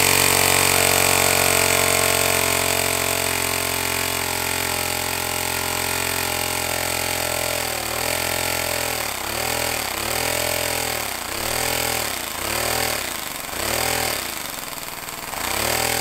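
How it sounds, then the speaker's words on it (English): A compressed-air engine fed at 50 psi runs with a steady mechanical drone that later settles into a rhythmic, pulsing chug, loud and close throughout with no voices. "And start the engine."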